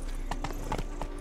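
Horse hooves trotting in The Witcher 3, a quick run of clip-clop beats over about a second, fairly faint and close, with no talk.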